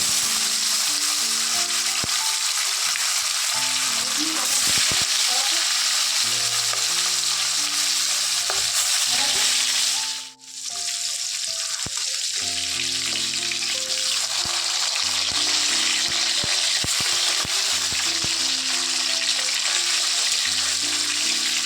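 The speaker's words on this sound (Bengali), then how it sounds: "তো মাছটা রান্না করে নিচ্ছি।" Fish frying in a hot pan gives a loud, continuous sizzle with intermittent stirring and scraping. It dips briefly near the middle, then resumes steadily, and no one speaks.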